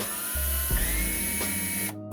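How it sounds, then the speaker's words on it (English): A power drill whirs up and spins steadily while twisting a length of wire into a double helix, a close, high-pitched motor whine that briefly changes pitch mid-run and stops abruptly near the end. "Using a power drill and a pair of pliers"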